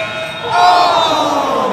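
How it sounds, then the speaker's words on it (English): A buzzer sounds at halftime of a championship basketball tournament game, a loud sustained tone heard over a noisy arena crowd. "the buzzer's going to sound"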